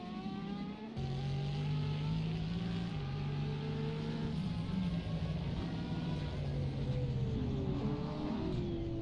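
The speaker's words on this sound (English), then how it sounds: "there's 3 LMP1s going down the Wellington Straight, and they're all fighting." LMP1 prototype race cars in a racing video game at Silverstone, several engines droning together at high revs with shifting pitches as they run side by side down a straight, loud and continuous.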